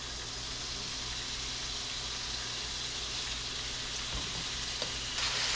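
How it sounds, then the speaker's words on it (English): Steady, dense sizzling of chicken frying in a hot pan for a stir fry, continuous and fairly close, with a brief rise in crackle near the end. "You hear it sizzling?"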